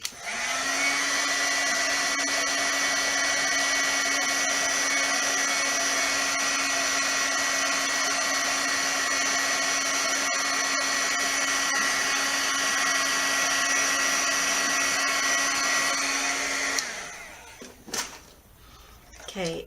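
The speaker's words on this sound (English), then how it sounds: "So now I'm just going to heat up my sticky embossing powder." Heat tool melting sticky embossing powder on a craft tag: a loud, steady hair-dryer-like fan roar with a constant hum for about seventeen seconds, then it shuts off, followed by brief handling clatter.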